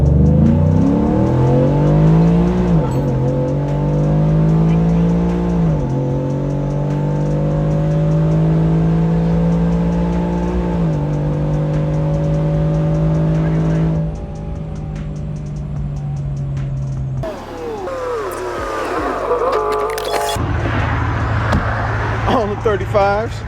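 A Ford F150 crew cab pickup with a naturally aspirated, tune-only engine, stock header and oil-type air filter removed, on 35-inch tires, revs hard and climbs through several gear shifts, then the engine drops away and louder cabin noise takes over near the end.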